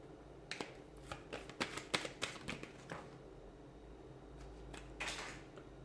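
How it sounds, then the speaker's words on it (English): Tarot cards shuffled by hand, giving a burst of quick papery snaps and riffles that cluster in the middle, then a final flurry near the end, close and fairly quiet with no talking. "let's give the cards a shuffle and let's begin"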